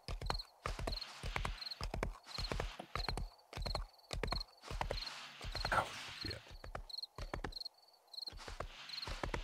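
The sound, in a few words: horse hooves clip-clopping in 7 Days to Die video game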